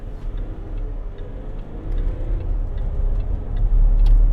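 Range Rover Sport 3.0 SDV6 HSE diesel with an 8-speed gearbox pulling away under throttle, a steady low engine rumble building gradually in loudness, heard from inside the cabin with faint ticking clicks over it.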